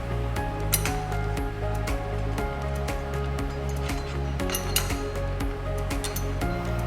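Metal bolts clink and tap against the frame bars of a hydroponic NFT growing table during assembly, a few sharp close clinks over a steady low hum.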